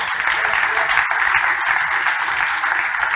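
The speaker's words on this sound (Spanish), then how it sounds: "¿Alguien puede darle ese aplauso al Señor?" Dense, steady applause from a church congregation during a Christmas sermon, a loud continuous roar of many hands with faint voices underneath.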